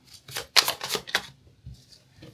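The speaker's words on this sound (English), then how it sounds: "I'm going to now shuffle the deck and begin pulling out cards for you." A deck of tarot cards is shuffled in a few quick crisp riffles and taps, fairly close, followed by softer handling sounds.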